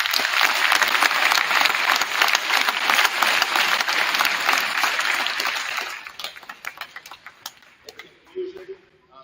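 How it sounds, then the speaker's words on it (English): Audience round of applause at a high school boys' freshman basketball event, loud dense clapping for about six seconds that thins out into scattered claps and background voices. "let's give Simon a big round of applause"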